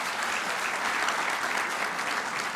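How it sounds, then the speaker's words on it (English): An audience at a public debate on the interim nuclear deal with Iran breaks into steady, dense applause, a continuous wash of many hands clapping with no voices over it. "I'd ask you to hold your applause until the very end"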